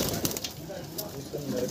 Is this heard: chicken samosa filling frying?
no